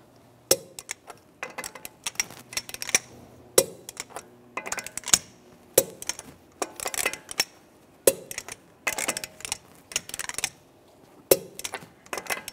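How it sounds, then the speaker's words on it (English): A torque wrench tightens the wheel lug nuts on a 2011-2015 Chevrolet Cruze to 100 foot-pounds in a cross pattern. Short ratcheting clicks come in repeated bursts, close by and fairly quiet. "Now I'm going to torque the lug nuts down to 100 foot-pounds in a cross pattern to tighten the wheel down evenly."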